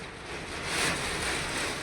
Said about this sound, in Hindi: आवाज़ सुनाई दे रहा है वो आप लोग किस तरह से पानी बारिश हो रहा है